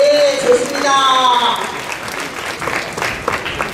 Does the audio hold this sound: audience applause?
yes